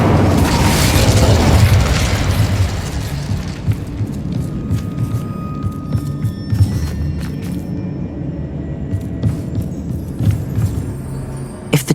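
A deep booming burst opens as the Incendio fire spell is cast in Hogwarts Legacy, rolling into a low rumble that fades under lingering crackle and scattered sharp ticks, with no talking.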